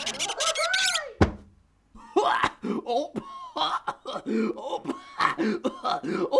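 A single sharp cough bursts out, followed by a brief pause and then lively animated voices talking over one another.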